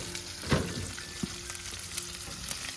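Dim sum chicken feet, dusted with flour, frying in hot oil with a steady crackling sizzle and a few louder pops and stirring clinks, close up with no talking.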